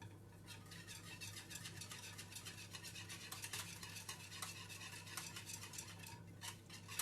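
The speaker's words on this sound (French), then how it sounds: "Alors, on mélange un coup." A chocolate dessert mixture is stirred in a bowl after microwaving, a fast scraping and clinking of a utensil against the bowl, close and continuous, with no talk.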